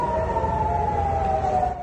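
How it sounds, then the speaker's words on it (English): Air raid sirens wail across Tel Aviv in the early morning, a loud sustained tone that slides slowly downward, layered over a rumbling city background with no voices. "residents and tourists in Tel Aviv were woken up by the wail of air raid sirens"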